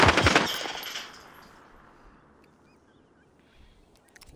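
Video game gunfire: a loud, rapid burst of shots at the start that fades into a decaying tail and near silence, then a faint shot or two near the end.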